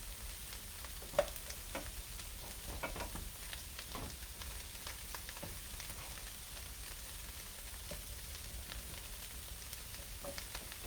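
Turkey burger meatballs sizzle and crackle in a frying pan as they are turned, a soft steady hiss with small scraping pops, fairly quiet and with no voices.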